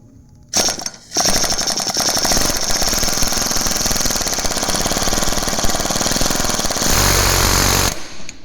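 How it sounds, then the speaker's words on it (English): A pneumatic air hammer pounds in a loud, rapid, continuous rattle on a GMT400 K3500 truck, close by, starting with a short burst and then running steadily for several seconds. "I'll just hit these with the air hammer with this bit on it"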